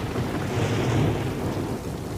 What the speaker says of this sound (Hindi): हे भगवान, कितनी तेज गरज हो रही है, लगता है कि बारिश होने वाली है।